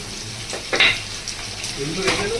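Diced medium potatoes frying in a pan with salt, a steady close sizzle with a few louder spatters and stirring sounds, no talking.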